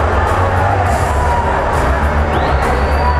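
A crowd cheers, whoops and applauds loudly and continuously for a fighter at the UFC 147 weigh-in, with dense shouting from a packed audience.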